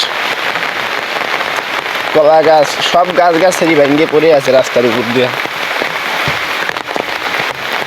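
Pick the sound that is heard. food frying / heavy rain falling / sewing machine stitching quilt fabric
heavy rain falling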